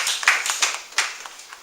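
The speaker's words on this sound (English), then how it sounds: "You can clap." Scattered hand claps from a small group in a classroom or seminar setting, a few distinct sharp claps spaced irregularly at moderate loudness, fading after about a second and a half.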